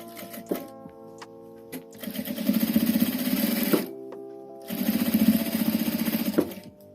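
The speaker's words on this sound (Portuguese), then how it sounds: "Vou passar uma costura aqui na bordinha aqui, só pra rebater e ficar o acabamento bem bonitinho" A sewing machine runs a topstitch seam along the edge of a fabric scrap piece, two steady bursts of rapid mechanical stitching with a short pause between, close and clear with no talking.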